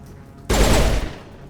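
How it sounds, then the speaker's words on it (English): Full-auto pistol gunfire in the video game Mass Effect: one loud, rapid burst of shots lasting about half a second, starting abruptly after a quiet lead-in and then fading out. "I think this is a full auto pistol"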